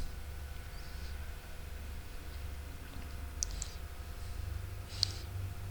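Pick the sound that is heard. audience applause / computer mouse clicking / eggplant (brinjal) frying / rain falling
computer mouse clicking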